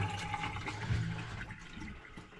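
Water pours steadily from a repaired laundry sink faucet, a continuous rushing stream at moderate volume that eases slightly toward the end, with no talking.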